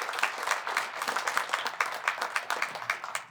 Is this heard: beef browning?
no